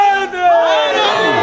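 Majlis audience shouting a slogan together, a loud massed chant of many voices swelling and holding steady for a moment.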